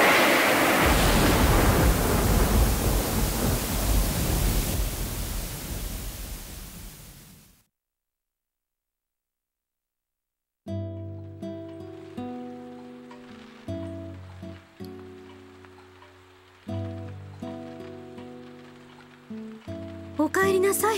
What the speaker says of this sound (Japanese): おかみさん、すごい雨ですね